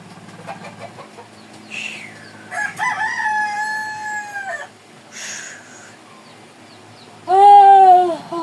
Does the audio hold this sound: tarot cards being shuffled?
no